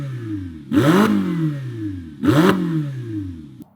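A Ferrari 488 GTB's turbocharged V8 is revved twice in short, sharp bursts, each spike climbing fast and then falling back to a steady idle, loud and close with no talk.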